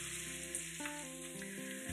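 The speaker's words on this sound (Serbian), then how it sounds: "Nastavljamo da tinstamo luk sve dok višak vode ne ispari i luk dobije onako svetlo" Onion gently sautéing in a pan until its excess water cooks off, giving a steady, close sizzle throughout with tonal background music layered over it.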